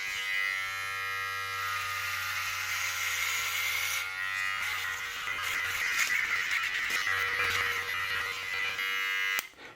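A precision hair trimmer buzzes steadily with a high whine as it shaves a head, its pitch shifting briefly near the middle and cutting off abruptly at the end, with no talk.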